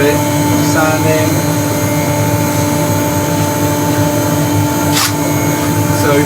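A continuous whirring hum of a wood lathe with a rough abrasive hiss of 600-grit sanding over it, steady throughout with a brief scrape near the end.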